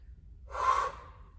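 A single sharp, breathy inhale-exhale lasts about half a second, close to the mic during a full-body dumbbell strength workout.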